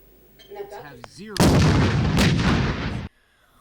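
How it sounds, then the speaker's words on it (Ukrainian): After a few faint chirps, a loud burst of heavy machine gun and grenade launcher fire erupts close by on an open firing range, a dense roaring barrage for nearly two seconds before cutting off abruptly. "Гатять кулеметів і гранатометів по умовних цілях на відкритому полігоні"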